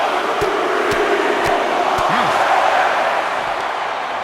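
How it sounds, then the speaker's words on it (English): Capacity arena crowd roars in a wrestling match in WWE 2K25, a broad sustained cheering wash with rhythmic thuds from the ring and a commentator talking over it. "do you hear this capacity crowd?"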